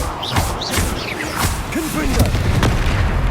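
Spell blasts cast in Hogwarts Legacy during gameplay, a series of booming thuds and whooshes with whistling magical sweeps, fairly loud and continuous over a busy game background.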